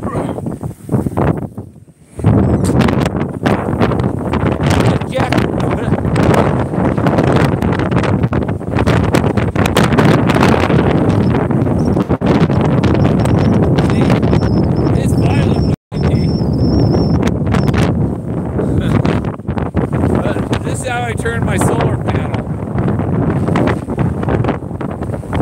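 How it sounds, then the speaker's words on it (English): Strong wind buffeting the microphone outdoors, a loud, constant roar with gusty surges nearly throughout, with a brief lull at the start and a momentary dropout midway. "you'll hear the wind"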